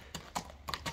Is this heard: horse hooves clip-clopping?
yes